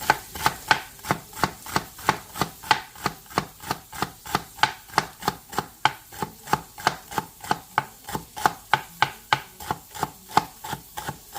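A knife chops celery on a cutting board for sloppy joes in a home kitchen, a fast, steady run of sharp, close knocks repeating evenly for the whole stretch with no talking.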